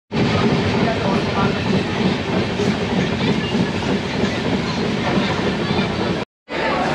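Kanchankanya Express train running, a loud steady rumble with rhythmic clickety-clack of wheels on rails, close and continuous before a brief cutout near the end.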